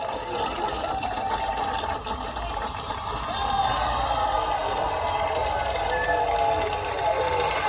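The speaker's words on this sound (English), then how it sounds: "Ladies and gents, give him a round of applause." A live car-show crowd applauds and cheers for the owner of a Ford Sierra Sapphire Cosworth, a continuous wash of clapping and shouts that swells slightly midway and stays loud throughout.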